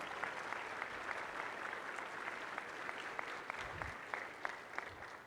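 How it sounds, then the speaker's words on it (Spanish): A university audience applauds a professor at a UAM-X event on social commitment, with steady, even clapping and distinct individual claps standing out across the whole stretch. "Le pido un aplauso, por favor, para la profesora Minerva."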